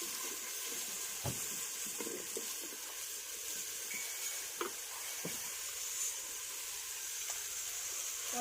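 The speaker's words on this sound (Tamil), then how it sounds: "வெங்காயம் போட்டு நல்லா கிளறி விட்டுக்கலாம்." Chopped onions sizzle steadily in hot oil in a pan for a South Indian fish kuzhambu, with a few sharp scrapes and clinks of stirring over the constant close frying hiss.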